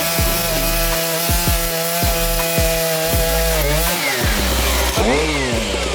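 A chainsaw cutting through a fallen tree: a loud, close engine drone that revs and bogs rhythmically as the chain bites into wood, with pitch dropping near the end, no talk.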